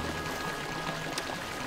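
Water flows steadily and softly in the Baldo video game, a faint continuous trickling wash that holds even throughout with no other sounds standing out.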